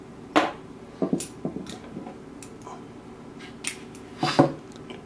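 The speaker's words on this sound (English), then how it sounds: "we'll start by folding a piece of the wire" Thin 26 gauge Kanthal wire being folded by hand for vape coils, giving scattered light metallic ticks and clicks, close and quiet, spaced irregularly with brief pauses.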